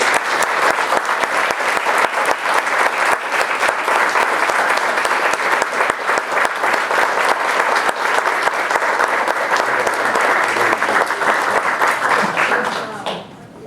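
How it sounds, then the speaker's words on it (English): A crowded township council meeting breaks into a long, loud, steady round of applause for the police department, with dense clapping holding for over ten seconds before tapering off at the end. "please join me with a round of applause"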